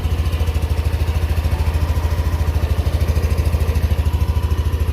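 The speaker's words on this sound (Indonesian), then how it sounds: "tekan sekali langsung dia akan nyala. Nah gitu, suara mesinnya kayak gini." A Yamaha Aerox 155 Connected motor scooter idles just after a one-touch start, its engine giving a steady, rapid, even low putter with a deep exhaust note, close and constant throughout with no talking.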